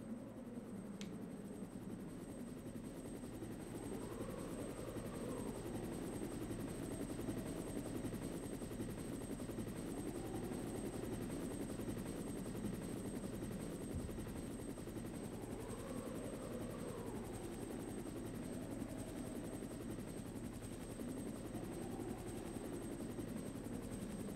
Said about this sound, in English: you use that to signal Brad in the helicopter, and he'll actually do a flyover here shortly